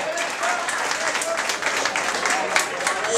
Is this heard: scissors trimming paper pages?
no